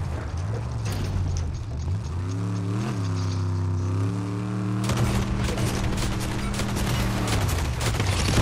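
Gunfire in a Fortnite Chapter 5 Season 3 battle royale match: rapid shots and a sustained burst in the latter half, over a droning vehicle engine.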